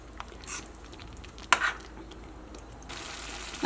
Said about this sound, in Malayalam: ഇതെല്ലാം കൂടിയിട്ട് നമുക്കൊന്ന് മിക്സ് ചെയ്യാം.